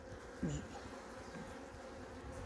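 Honey bees buzzing steadily at a hive with a weak, poor-quality queen, a continuous close hum with one brief louder buzz near the start.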